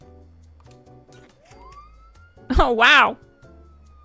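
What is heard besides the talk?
police siren wall light in video game Fallout 76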